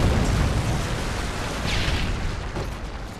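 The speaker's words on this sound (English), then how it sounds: "Predator missile inbound." A Predator missile explosion in a first-person shooter video game: a loud, sustained rumbling boom with a broad blast that rolls on for several seconds and dominates the mix, with no talking.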